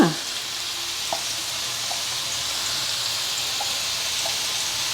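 Onions sizzle in hot oil in a pan for Godavari small fish pulusu, a steady bright hiss with a few faint clinks, continuous and close with no talking.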